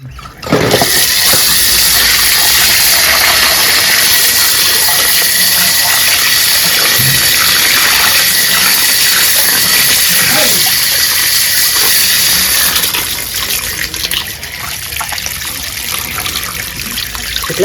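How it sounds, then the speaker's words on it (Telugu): Tap water pours steadily and loudly while goat intestine is rinsed clean for boti curry, a continuous splashing gush that eases slightly near the end. "ఈ పెద్ద పేగును కూడాను చక్కగా నీళ్ళ కింద పెట్టి క్లీన్ చేసుకుందామండి."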